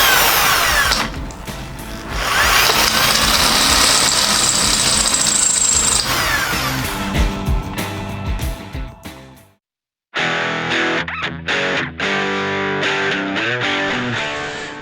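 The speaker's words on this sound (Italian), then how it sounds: "Usate sempre il trapano a basso numero di giri" Loud, harsh power-tool noise of an electric drill at low speed, grinding on and off, with a brief silence near the end before it resumes in bursts.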